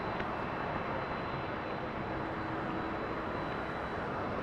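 Airliner departing runway 23 at Toronto Pearson Airport, a steady broadband engine roar held at constant loudness throughout, distant and unbroken with no voices.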